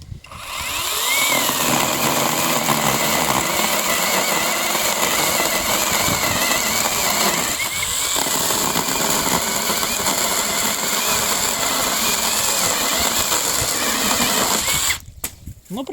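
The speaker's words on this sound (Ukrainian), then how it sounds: "як буде працювати ось ця міні-пила" A small cordless reciprocating saw whines steadily as it cuts, a loud continuous buzzing that drops off briefly near the end, with no clear talk over it.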